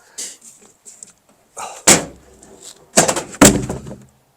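Several sharp, hard knocks strike frozen, icy ground, spaced irregularly with brief quiet gaps between them, close by.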